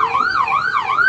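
An ambulance siren wails loudly and close, its pitch sweeping up and down in a smooth repeating cycle, alone without speech, at the scene of a deadly riot.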